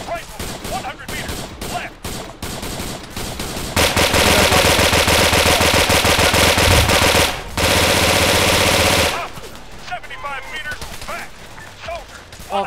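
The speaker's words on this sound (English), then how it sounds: "This PPSH is really inaccurate." Automatic bursts from a PPSh submachine gun in Arma 3 on a Vietnam-themed base defence, with a long sustained volley mid-clip among other close and distant gunfire, and a brief spoken word near the start.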